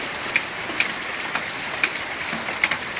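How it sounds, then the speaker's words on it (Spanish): An autumn rainstorm pours steadily, water splashing and bouncing off surfaces in a dense hiss, with a few sharper drip impacts standing out close by. No voices. "Una típica tormenta de la zona esta. Mira cómo bota el agua."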